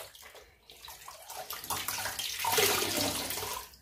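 Water running from a tap as a face is rinsed clean of soap during a skincare routine, a steady close splashing stream that swells louder in the second half, with no talking.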